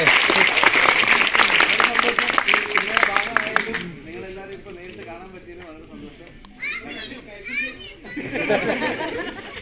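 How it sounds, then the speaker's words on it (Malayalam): Loud applause from a theatre audience with children's voices and chatter, fading after a few seconds into quieter talk, then a second burst of clapping near the end. "ഒരു ഉഷാറിലായിട്ട് നിങ്ങൾ കൈയടിക്കേ"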